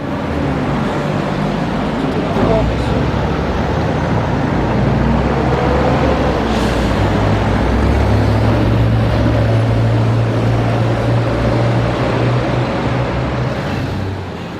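London bus NV 171, an Enviro, approaching along a High Street from the opposite direction, a steady low diesel engine rumble with traffic noise, loud and continuous throughout without any talk.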